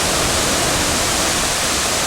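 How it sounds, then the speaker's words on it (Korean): Sugar Falls on Camiguin Island, a thin stream dropping from a cliff covered in lush rainforest, makes a loud, steady rush of falling water with no breaks. "무성한 열대우림으로 덮인 절벽에서 떨어지는 물소리가 시원하게 들립니다"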